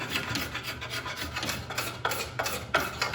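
A sharp paint scraper drawn across the wooden surface of a jewelry box, giving a close, continuous rasping rub with a few sharper strokes near the end.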